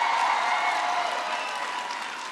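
Applause from a crowd at a high school economy speech in Elkhart, Indiana, steady and fairly loud, fading slightly toward the end.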